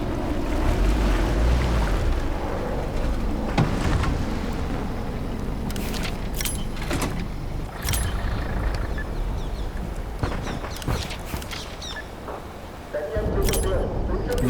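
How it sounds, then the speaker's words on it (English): A boat engine idling as the boat pulls up to a dock in the video game Hell Let Loose Vietnam, a steady low rumble with water wash, some sharp clicks and a voice talking over it. "Pull the boat up to the dock and switch the engine off."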